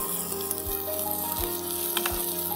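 Rice for Bengali hilsa pulao sizzles steadily as it fries in a pan, with low scraping strokes of stirring recurring about every three-quarters of a second, close and fairly loud with no voices.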